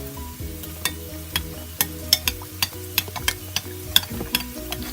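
Spoon stirring sauce for Mexican shells in a pan, with a dozen or so clear scraping and clinking strokes in a steady rhythm over a low background hum, close and fairly loud.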